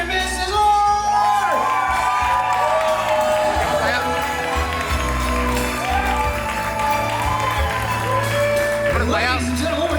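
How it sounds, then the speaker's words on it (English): Wedding guests at The Addison of Boca Raton applaud and cheer for the newlyweds, a loud, steady roar of clapping, whoops and shouts, with music playing and an announcer's voice over the crowd. "big round of applause when you can hear Miami for the new Mr. and Mrs. Orr!"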